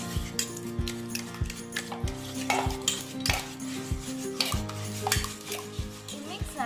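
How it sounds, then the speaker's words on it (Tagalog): Carrot and malunggay puto batter being mixed in a bowl, with repeated utensil scrapes and light taps against the bowl forming an uneven stirring rhythm, close and moderately loud, with a faint tonal hum underneath. "I-mix natin lang mabuti para maganda yung kanyang pinalabasan."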